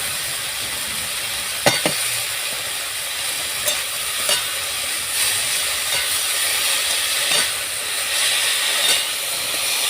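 Chopped khesari greens dropped into a hot kadai already holding torn dried red chillies and black cumin, a steady broad sizzle with a few sharp clinks of the spoon against the pan, close and continuous.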